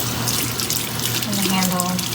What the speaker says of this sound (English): Rinse it out.